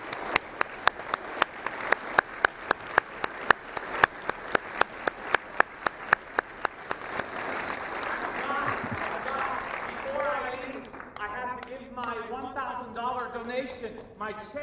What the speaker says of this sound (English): let us offer another round of applause out of gratitude for him